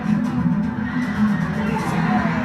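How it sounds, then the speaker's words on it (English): Stadium crowd at a BYU soccer game roaring continuously, with a dense rumbling cheer and a voice mixed into the noise. "now this crowd's really into it"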